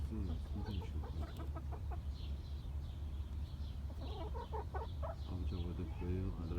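Newly bought hens, red, black and white laying birds, cluck and chatter steadily and fairly close throughout, with overlapping calls from several birds.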